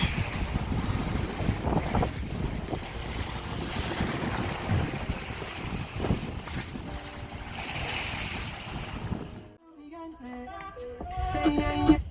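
A sailboat moving at 6.5 knots on a beam reach, with steady wind buffeting and rushing water across most of the stretch, then a sudden drop to quieter creaking and faint tones near the end.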